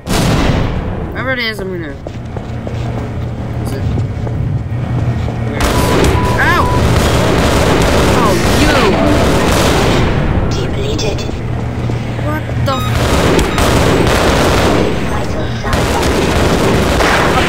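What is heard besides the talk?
gunfire in a Half-Life Source video game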